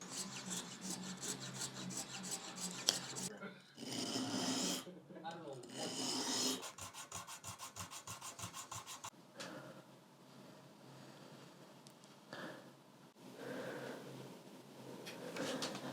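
Rhythmic rasping strokes of a radiused sanding block shaping a guitar nut, back and forth in bursts with short pauses, close by and fairly quiet.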